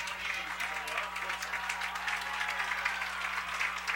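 Edgerton varsity football players clap on the sideline during a game against Hicksville, a soft, distant patter of applause with a faint hum underneath and crowd murmur around it.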